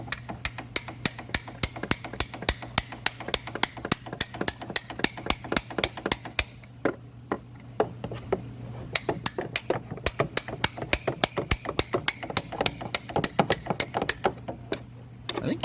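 A metal socket is tapped with a hammer to seat a CV axle seal into a car transmission: a long run of sharp, evenly spaced metallic knocks, close and moderately loud, with a brief pause partway and no clear talk.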